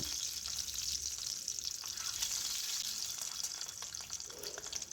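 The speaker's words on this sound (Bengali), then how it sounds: "প্রথমেই ডিমগুলো ভেজে তুলে রাখবো" Eggs frying in oil in a pan, a steady hiss and sizzle that continues without pause, fairly quiet, with no talking.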